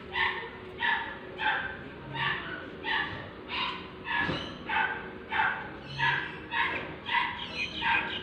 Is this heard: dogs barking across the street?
yes